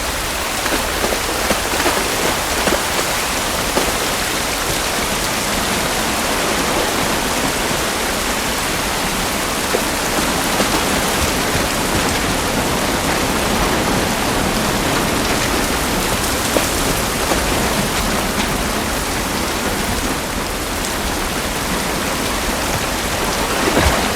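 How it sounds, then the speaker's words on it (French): Heavy rain falls in the video game The Last of Us Part I, a dense, steady hiss of drops on surfaces that continues unbroken and fairly loud for the whole stretch. "Cette pluie ne va pas nous aider."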